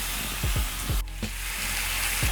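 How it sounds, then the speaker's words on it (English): Fatty pork sears in a dry pan with no added fat, giving a steady close sizzle broken by a few soft scraping and knocking sounds from the pan. "Add your pork in the pan and sear until golden brown."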